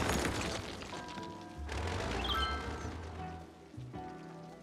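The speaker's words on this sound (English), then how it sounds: "I'm hating thunderstorms already." A thunderstorm in Cities: Skylines brings heavy rain, a constant dense hiss with rumbling low swells and a few brief dips, playing alone without voices.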